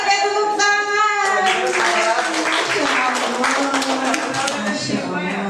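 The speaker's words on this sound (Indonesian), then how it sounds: "Oke, tepuk tangan." An audience at a school event breaks into applause, a dense burst of many hands clapping at close range with a voice speaking over the start, continuing steadily for several seconds.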